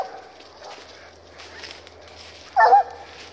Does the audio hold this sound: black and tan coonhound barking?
yes